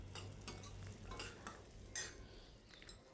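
Onions frying in oil for a pepper rasam give off a soft, continuous sizzle, with faint scrapes and taps of a spoon stirring the pan at intervals, quiet and close.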